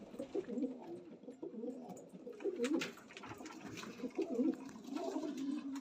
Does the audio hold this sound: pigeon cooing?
yes